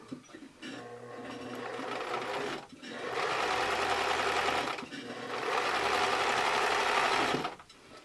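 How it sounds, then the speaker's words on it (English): A sewing machine stitches a seam joining quilt blocks, running in two long steady bursts of whirring motor and needle chatter separated by a brief pause, close and clear, with no talking. "I'm going to make sure that my edges are together, and I'm going to start sewing."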